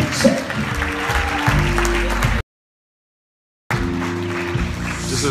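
A congregation claps during a church service, a dense spread of clapping under a held tone, cut by a sudden stretch of dead silence before the crowd noise returns.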